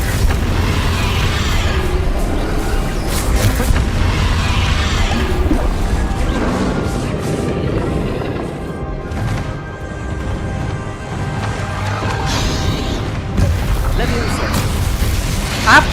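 Spell explosions from the Confringo fire curse in Hogwarts Legacy, a dense run of booming blasts and crashing impacts over constant game music and battle noise, loud and continuous with no clear gaps.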